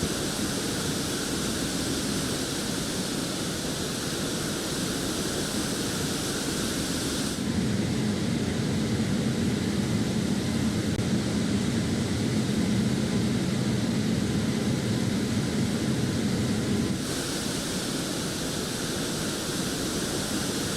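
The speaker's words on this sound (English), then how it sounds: "Can I land the Airbus A380 on the river in Microsoft Flight Simulator 2024?" Airbus A380 cruising over Paris in Microsoft Flight Simulator 2024, a steady broadband jet roar that grows louder and denser midway, then eases back, with no talking.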